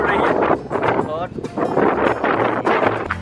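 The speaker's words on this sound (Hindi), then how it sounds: "तेज़ हवा चलनी शुरू हो गई है, काफ़ी तेज़ हवाएं उड़ रही है।" Strong wind gusts in a village near Sialkot as sudden rain sets in, a loud, rough roar battering the microphone in waves while people talk over it.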